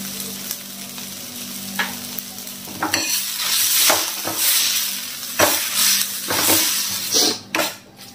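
Green chili thecha is stirred and fried on a hot tava griddle. It gives a steady close sizzle with scraping stirs and sharp metallic clinks of a spatula against the pan, and no one speaks.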